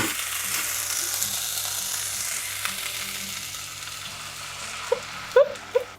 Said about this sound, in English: When the onions have turned translucent, we'll deglaze with some Guinness beer.